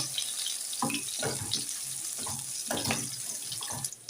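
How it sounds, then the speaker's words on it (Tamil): Onion, red chilli, green chilli and curry leaves temper in hot oil, giving a continuous hissing sizzle with a few soft stirring bumps underneath. "வெங்காயம் ஒரு வத்தல் ஒரு பச்சை மிளகா கொஞ்சம் கருவேப்பிலை இதெல்லாம் சேர்த்து தாளிப்புக்கு போட்டுறேன்"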